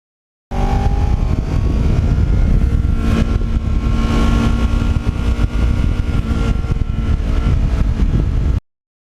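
Kawasaki Ninja motorcycle with its stock exhaust, heard while riding: a steady, loud engine drone with wind rush that holds constant for about eight seconds, with no talking.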